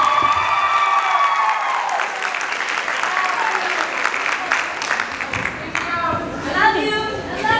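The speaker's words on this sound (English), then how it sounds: "please give a round of applause for the 2023 guidance counselor of the class of 2023, Ms. Catherine Rojas" Graduation audience applauding and cheering for the class of 2023 guidance counselor, a dense, sustained wave of clapping with crowd chatter and whoops running under it.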